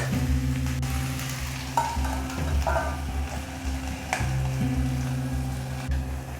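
Potatoes for aloo bhujiya sauté in a pan with a steady, close sizzle and frying crackle, broken by occasional stirring scrapes, with no voices.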